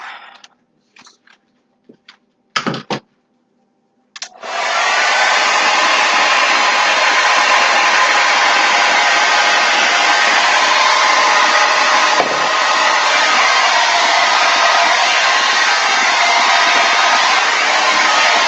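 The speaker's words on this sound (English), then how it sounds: "Break out the blow dryer." A hair dryer roars loudly and steadily for over ten seconds after a few short knocks and clicks, blowing on a Dutch pour painting made with dish soap.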